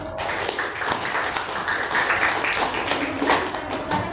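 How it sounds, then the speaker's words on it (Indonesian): A group of teachers in a training session claps hands together at close range, a dense, somewhat uneven patter that swells and eases over a few seconds. "ini tepuk tangan dulu"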